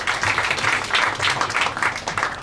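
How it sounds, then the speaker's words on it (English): Audience applause at a lecture on U.S. policy in Asia, a dense burst of many hands clapping at close range, sustained and fairly loud with no speech over it. "So please join me giving a big applause"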